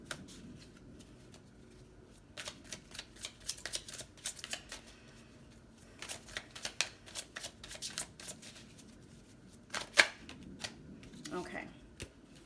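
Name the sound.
tarot cards being shuffled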